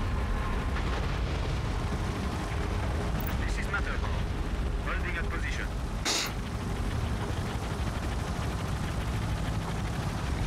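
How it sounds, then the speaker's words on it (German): Artillery barrages and explosions rumble continuously in the Tom Clancy's EndWar strategy game, a dense, loud low roar of distant shelling with a few brighter bursts, with voices talking over it. "Artillerie."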